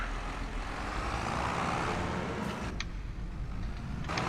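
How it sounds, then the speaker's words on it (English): A brand new tractor with 28 hours of use idles with a steady, low engine rumble that is fairly quiet and continuous. Brief higher-pitched beeps or clicks sound near the end, with no talking. "Brand new tractor with 28 hours on it."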